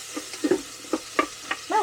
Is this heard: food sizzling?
yes